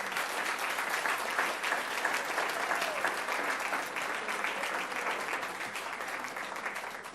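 An audience applauds a school counselor named Florida School Counselor of the Year, giving steady, dense clapping that carries on evenly for several seconds at a moderate distance with no break.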